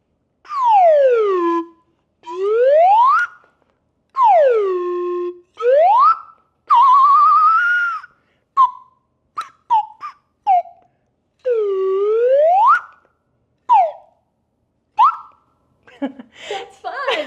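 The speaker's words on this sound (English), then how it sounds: "following along to the sounds of the slide whistle" A slide whistle swoops down and up in long repeated glides, then breaks into short quick chirps and slides before a brief noisy burst at the end.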